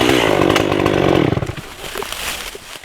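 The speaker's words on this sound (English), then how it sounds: "keep your saw cutting as level as possible so that your ring will connect" A chainsaw cuts a ring around a standing tree trunk to girdle it, a loud close snarling roar that bogs down and then drops to a lower idle rattle partway through.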